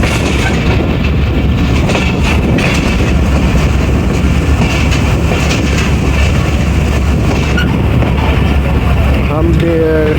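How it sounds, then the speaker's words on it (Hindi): A train passes through a station on the loop line with a steady, loud roar and rumble of rolling wagons. A brief higher tone comes near the end. "हम अप की लूप लाइन से पास हो रहे हैं और डाउन की लूप लाइन पे 14 डाउन खड़ी है।"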